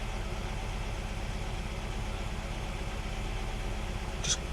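A car engine idles steadily at about 1,000 RPM, a low, even rhythmic throb that stays constant and close throughout, with a brief light click near the end.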